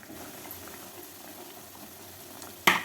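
Pitha biscuits deep-frying in very hot oil, a continuous soft bubbling hiss with a sudden louder splash and fizz near the end as more dough goes into the oil.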